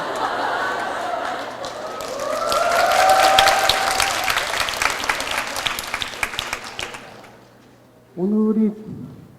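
Audience applause fills a hall at the final of a university debate competition at Sookmyung Women's University, swelling to a sustained burst of many hands clapping and fading over several seconds, with a voice speaking over it and briefly after.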